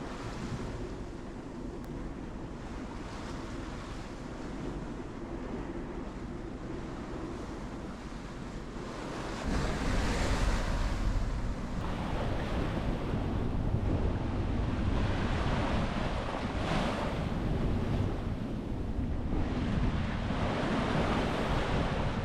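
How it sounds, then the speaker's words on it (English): A sailboat bashes through big seas in high wind on the passage to New Zealand. Wind roars steadily and surging waves crash close by, growing noticeably louder and rougher partway through, with no talking. "We're bashing into big seas and high winds."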